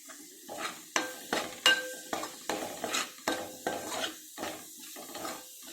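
Masala for a fish pulusu fries in a pot while a metal spoon stirs it in a steady rhythm, each stroke a distinct clink and scrape over a soft sizzle, close and fairly loud.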